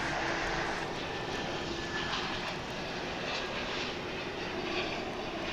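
A McDonnell Douglas MD-11 at Dallas/Fort Worth International Airport gives a steady, loud broadband engine roar with a faint whine, continuous and fairly close throughout.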